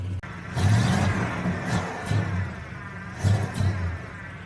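A nearby 1970 Oldsmobile barn find's engine revs up in a few short bursts, rising and falling, with no talking.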